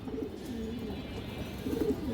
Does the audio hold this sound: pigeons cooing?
yes